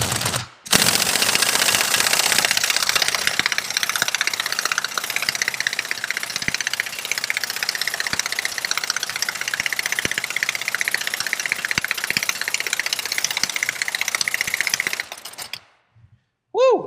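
A heavy air impact gun with a 2 3/4 inch socket hammers on the nut of an Eaton Fuller 13-speed truck transmission, a loud rapid rattling burst sustained for about fifteen seconds before cutting off.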